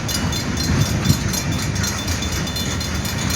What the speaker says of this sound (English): Come on, train, you're almost at a complete stop.